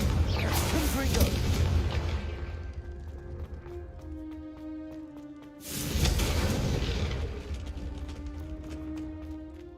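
Confringo blasting spell explosions in Hogwarts Legacy, with two loud booming bursts, one at the start and another midway, each decaying into lingering game ambience and music.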